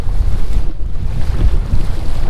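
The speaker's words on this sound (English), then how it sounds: "let you see and hear these waves crashing a little bit" Rough surf crashes and churns steadily along a windy beach, a dense, continuous roar with heavy wind buffeting the microphone throughout.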